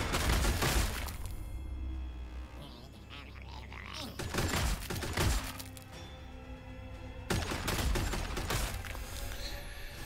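Bursts of gunfire and crashing impacts from the strategy game Warhammer 40,000: Sanctus Reach come in three loud volleys separated by quieter rumbling gaps.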